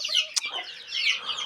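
A chicken clucks close by in a farmyard poultry coop, a few short bursts with a sharp squawk partway through, heard alone without talk.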